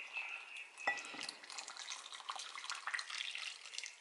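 Two cups of boiling water pour steadily into a bowl close by, a continuous splashing, trickling rush with a brief clink near the start, no voices.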